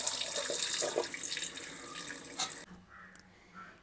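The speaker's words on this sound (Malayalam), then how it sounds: "അപ്പോൾ ഈ അരിയൊക്കെ ഒന്ന് കഴുകിയെടുക്കാം നമുക്ക്." Rice being washed under running water in a sink, a close splashing tap stream with swishing grains for about two and a half seconds before it drops to faint trickles.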